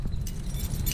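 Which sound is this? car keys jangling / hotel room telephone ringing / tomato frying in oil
car keys jangling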